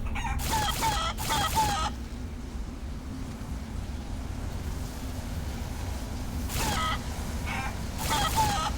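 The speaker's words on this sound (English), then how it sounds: "Ah, chicken portals galore, but that's in the background." Chicken clucks and crowing from chicken portals in the video game Guacamelee! 2, heard as short bursts of bright fowl calls at the start and again near the end over a steady rumbling game soundtrack.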